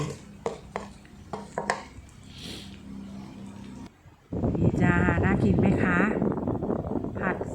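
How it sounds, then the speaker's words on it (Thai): Spaghetti stir-fried drunken style with shrimp is scooped from a pan onto a plate, giving a few sharp utensil clinks and scrapes at first, then someone talks loudly over continued kitchen noise. "เรามาตักใส่จานกันเลย"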